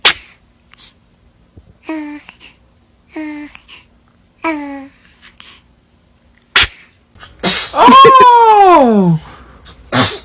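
A baby sneezes several times in quick succession, short bursts spaced a second or two apart, followed by a longer whiny cry or squeal, with brief gaps of quiet between.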